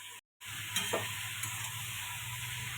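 Bottle gourd frying in a pan with spices such as bay leaf, dried red chilli and whole fennel, giving a steady close sizzle with a few soft stirring clicks after a brief dropout near the start.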